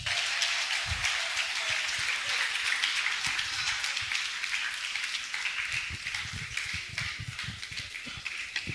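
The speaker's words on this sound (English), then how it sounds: "A round of applause, please." A crowd applauds continuously at a school Christmas concert awards presentation, a dense wash of clapping that holds steady for several seconds with scattered louder claps.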